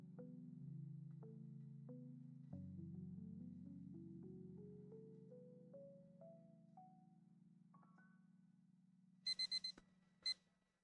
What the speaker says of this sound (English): that's the alarm telling me that the initial balance will be formed in